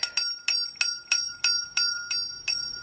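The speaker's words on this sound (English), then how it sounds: "Every time I try to ring my bell," A small handheld bell rings out clearly, struck about nine times in a steady rhythm, each ring bright and glassy with a short shimmering decay, close and alone with no talk.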